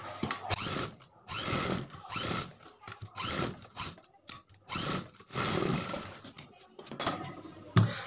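Sewing machine stitching blouse fabric, running in several bursts of rapid mechanical whirring separated by short pauses, close and fairly loud.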